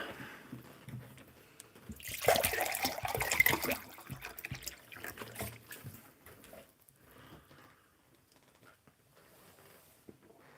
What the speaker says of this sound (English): And I need to refill my water.